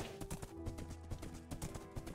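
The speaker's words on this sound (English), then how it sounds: "Oh my god, this horse." Hooves of a horse in the video game Minecraft clip-clop in a quick, steady rhythm over a busy game soundtrack, fairly close and moderately loud.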